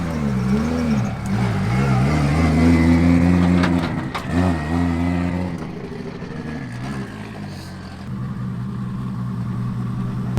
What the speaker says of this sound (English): I'm gonna go take a lap in the car